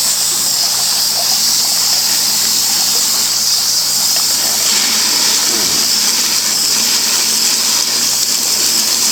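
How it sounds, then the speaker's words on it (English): Water rinsing rock tumbler stones and grit from an entry-level rock tumbler, a steady broadband gush and spray that runs unbroken and fairly loud throughout, with a faint low thump near the middle. "So let's get this rinsed off."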